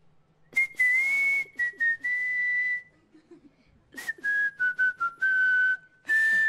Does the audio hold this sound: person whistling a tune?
yes